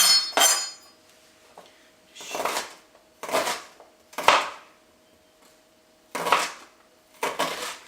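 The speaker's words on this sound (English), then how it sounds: "It's just that little bit of onion. Chop it up like so." A knife chops onion on a cutting board in six or seven separate bursts of crisp tapping, each with short pauses between, close and clear with no talking.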